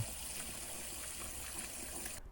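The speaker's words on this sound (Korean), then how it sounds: "잘 삶은 국수는 차가운 물에 식혀 쫄깃함을 극대화시켜줍니다." Cold tap water gushes steadily over freshly boiled noodles being rinsed in a kitchen, a loud continuous splashing stream that stops abruptly near the end, with no voices.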